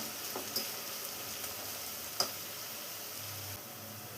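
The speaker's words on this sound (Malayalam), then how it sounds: "ഇപ്പോൾ സവാളയെല്ലാം ഒന്ന് ഫ്രൈ ആയി വരുന്നുണ്ട്" Sliced onions frying in coconut oil in a pan for a chickpea curry, a faint, steady sizzle with a few soft ticks and clicks of stirring.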